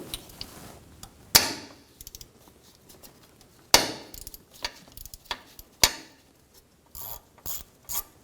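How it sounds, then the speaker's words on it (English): A 10mm socket ratchet loosening the bolt on a vehicle speed sensor of a 2013-2017 Honda Accord 2.4L, heard as short bursts of crisp ratchet clicking separated by quiet pauses. "Using a 10mm socket, we're going to remove the bolt out of the vehicle speed sensor."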